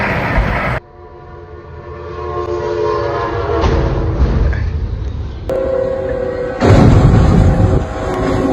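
A train rumbles past loudly, its horn blaring in long sustained blasts, with wheel clatter and a heavy roar rising toward the end.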